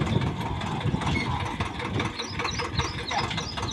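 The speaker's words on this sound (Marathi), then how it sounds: "आता ट्रॅक्टर मामा मागे घेतात." A farm tractor's engine runs steadily as it reverses in a field during sowing, a continuous mid-low mechanical rumble at close range with a dense, noisy texture and no clear pauses.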